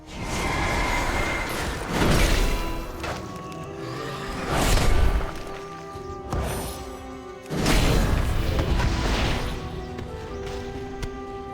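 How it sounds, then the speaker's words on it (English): Cannon fire in the World of Warcraft video game, several heavy booming blasts at irregular intervals with crashing impacts and whooshes between them, loud and close without talk. "Look at that cannon going to work."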